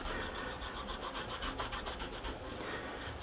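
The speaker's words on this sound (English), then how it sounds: "just rub back and forth, and that'll start cleaning everything up real good" An NES game cartridge being cleaned by rubbing back and forth, a close, steady, rhythmic scrubbing with quick regular strokes that continues without pause.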